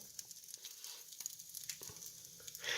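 Bacon fries in a pan for a bacon and egg sandwich, a soft, crackling sizzle with scattered pops and spits, faint and steady.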